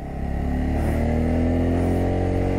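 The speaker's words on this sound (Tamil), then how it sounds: "தேர்டு கீரில் வண்டி இழுக்கும்." A vehicle engine pulls in third gear up a hill road near Kollimalai, a loud, steady drone with a slight rise in pitch and no speech.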